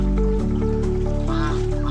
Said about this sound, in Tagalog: Yan po mga pato